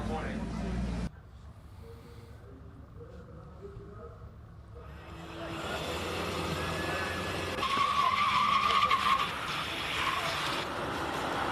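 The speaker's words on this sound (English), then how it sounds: "That is a lot of braking from that Suzuki Swift" Race cars on a hill climb course, including a Suzuki Swift, braking hard with a tyre skid and squeal rising over engine noise, heard from the roadside at moderate distance.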